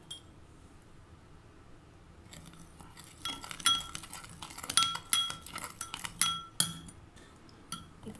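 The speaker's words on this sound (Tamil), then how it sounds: "கொஞ்சமாக வாட்டர் ஆட் பண்ணி இதை பீட் பண்ணிடலாம்" A spoon clinks rapidly against the glass or cup while whisking instant coffee, sugar and a little water into a thick cappuccino mix, sounding close and alone in a steady, busy rhythm after a quiet start.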